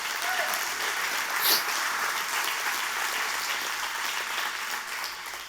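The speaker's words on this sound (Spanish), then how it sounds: "O dar un aplauso a Dios." A church congregation applauds during a sermon, giving steady, dense clapping from a crowd that holds at an even level for several seconds.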